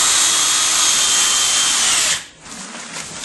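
A power drill whirs steadily while driving screws into a tiling base, loud and continuous for about two seconds before cutting off, with faint workshop noise trailing after.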